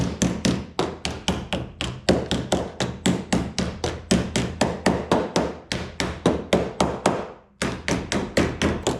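A hammer taps an aluminum camper shell over a 2x4 in a steady run of about forty light, quick blows, one short pause near the end, then more taps.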